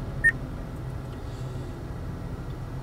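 A single short, clear electronic beep from an Acura's voice recognition system sounds early on, followed by a low steady hum of car cabin noise.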